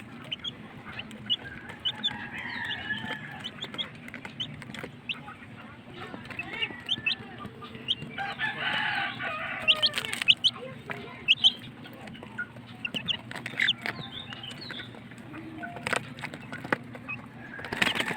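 Twelve-day-old chicks chirp softly in a steady scattering of thin peeps, with faint clucking and other fowl nearby and low background hum; sparse bursts grow a little busier midway.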